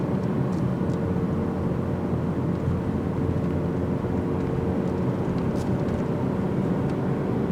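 A car engine drones steadily from inside the cabin as the driver slowly picks up speed, a dense low rumble with road noise that stays constant throughout, with no talk.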